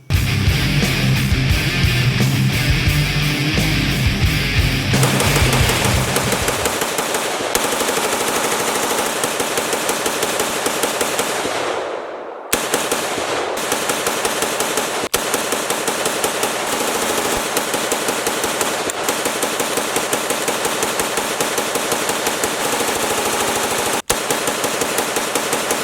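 A rifle fires rapid, loud, continuous shots during a 500-round burn-down test of a Holosun 515 optic, with one brief pause midway before the shooting resumes.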